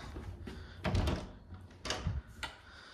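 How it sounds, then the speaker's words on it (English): An interior door leading upstairs in an old mixed-use building is opened, giving a few faint wooden thumps and knocks with short rattles between them, near and quiet, no speech. "this is the door to get upstairs"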